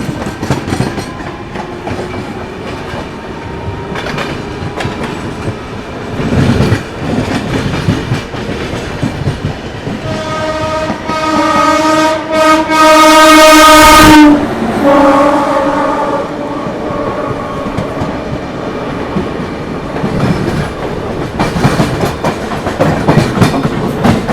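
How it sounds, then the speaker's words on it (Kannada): Kolkata Radhikapur Express running at high speed, a loud continuous rumble with rhythmic clickety-clack of wheels over rail joints, joined midway by a long blaring horn from a passing train, all heard from on board. "ಪ್ಯಾರಲಲ್ ಆಗಿ MEMU ಸಹ ಡಿಪಾರ್ಟ್ ಆಗ್ತದೆ ನೋಡಿ."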